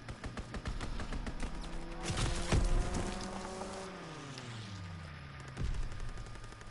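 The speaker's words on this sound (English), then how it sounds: "Strafing run inbound." A strafing run in a PS4 game: rapid bursts of gunfire rattle in quick succession, with a loud heavy impact partway through and an engine-like tone sweeping downward beneath.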